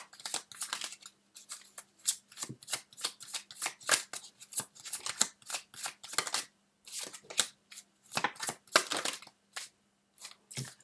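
Tarot cards shuffled and drawn by hand in a quiet room, a long run of quick papery riffles and flicks, close and fairly loud, with brief pauses between bursts and no talking.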